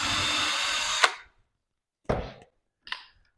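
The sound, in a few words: power drill pre-drilling hinge holes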